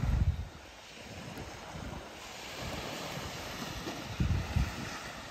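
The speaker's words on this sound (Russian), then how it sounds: "Тишина, только волны." Sea waves washing ashore at a quiet night campsite on the Turkish coast, a steady low surf roar with a few heavier surges near the start and end, plus some wind buffeting the microphone.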